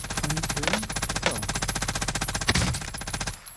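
Rapid automatic gunfire from a weapon in the video game Warzone, a steady stream of loud, closely spaced shots running almost continuously with a brief pause before it cuts out.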